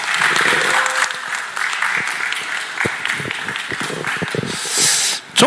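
An audience at a rally press conference for the August 15 gathering in Seoul claps in sustained, dense applause for several seconds, fading toward the end.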